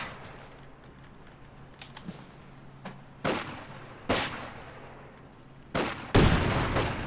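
Battle sounds from the Company of Heroes 2 real-time strategy game: several sharp gunshot and explosive cracks, including a rifle grenade, burst out at irregular intervals over low ambient rumble, growing louder and denser toward the end.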